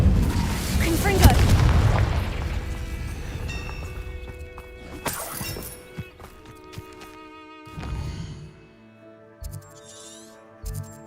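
A Confringo blasting spell goes off in Hogwarts Legacy with a loud, rumbling explosion at the start, followed by scattered fainter impacts and game effects fading over several seconds.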